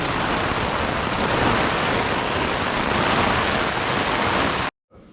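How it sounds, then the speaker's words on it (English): Dense, loud wash of hissing noise like heavy rain pouring down in a thunderstorm by the ocean in Maine, continuous and broadband, cutting off abruptly near the end. "This thunderstorm is insane."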